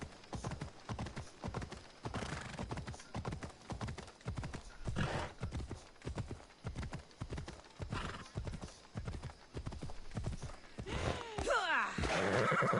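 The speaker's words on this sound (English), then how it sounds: "This horse is moving so slow." Horse in the Assassin's Creed Odyssey video game, with a steady rhythmic clip-clop of hooves, a whinny near the end, and a voice talking over the hoofbeats.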